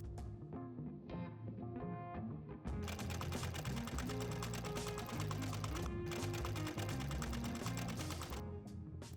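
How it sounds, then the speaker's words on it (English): A sewing machine runs a straight stitch along the bottom and inner edges of a skirt's pockets, a fast steady mechanical whir with quick rhythmic needle clatter that starts after a brief pause and continues close and loud. "We'll sew a straight stitch along the bottom and the inner sides."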